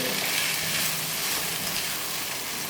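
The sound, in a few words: okra and spices frying in a pan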